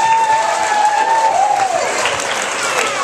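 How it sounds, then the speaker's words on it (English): An audience applauds a panel at an evening awards event, a broad wash of clapping with some crowd noise and a few faint cheers, while a thin tone hums underneath. "Let's have a big round of applause for our panel."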